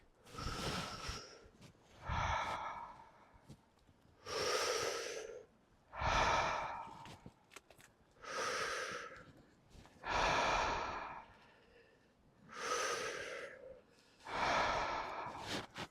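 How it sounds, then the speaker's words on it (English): A slow series of deep breaths, about eight full inhale-exhale cycles in sixteen seconds, close and clear, with airy rushes and sighing exhales separated by brief quiet gaps, and no talking. "And I'm breathing because I have to."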